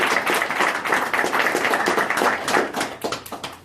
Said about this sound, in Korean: 우리 개발팀에 속해서 열심히 했던 우리 개발팀 직원들한테 격려의 박수 한번